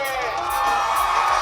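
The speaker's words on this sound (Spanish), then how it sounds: "Que me peguen un grito fuerte todos los que están bailando" A wedding celebration in San Agustín Oapan, where a dense crowd of dancers shouts and whoops loudly. The roar is steady and unbroken and fills the whole moment.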